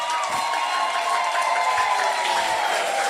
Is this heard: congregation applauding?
yes